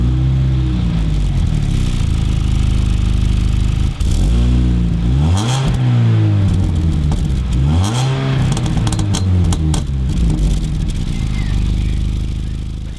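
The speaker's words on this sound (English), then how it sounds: "at least the exhaust sounds quite nice." A Mini Cooper S R53's loud exhaust revs repeatedly, rising and falling in pitch with a brief drop in the middle, deep and throaty throughout.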